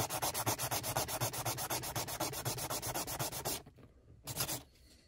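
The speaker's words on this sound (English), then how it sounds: "when you're sanding something like this, you always want to support the piece that you're sanding." Rhythmic back-and-forth rasping of 120-grit sandpaper by hand on a car body part, brisk and close, with quick regular strokes that pause briefly and then stop.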